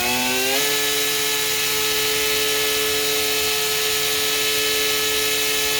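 An electric kayak motor with a high-power unit run up to full throttle, around 8,600 RPM, whines loudly and steadily, its pitch climbing sharply in the first half-second and then holding a strong, continuous high-speed tone throughout.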